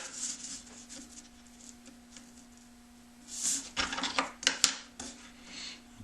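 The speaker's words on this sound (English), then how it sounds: "And I just cut this stuff with a razor knife." A razor knife slices through thin walnut veneer in a woodworking shop, making faint, quiet scratchy strokes that build into a short burst of sharper cutting sounds near the end.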